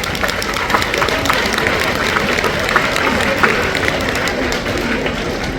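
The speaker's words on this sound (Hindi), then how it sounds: "आप लोगों को ताली बजा के इनका सम्मान करना चाहिए" A seminar audience on parenting applauds, with dense, steady clapping from many hands filling the room at an even level throughout.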